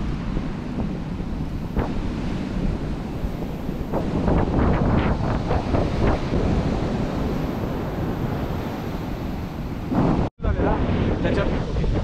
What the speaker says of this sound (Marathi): कारण विंड खूप जास्ती आहे